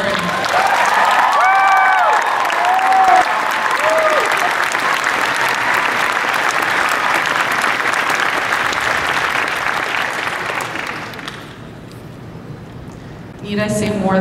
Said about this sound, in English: Big round of applause for Zoe Palmer, Lauren.